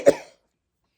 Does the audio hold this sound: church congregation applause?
no